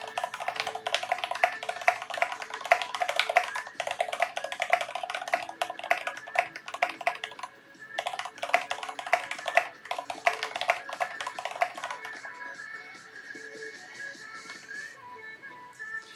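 Steady clacking keystrokes from a mechanical keyboard fitted with MT3 keycaps and white Revo switches, typed continuously and close up with a brief pause near the middle, no voices.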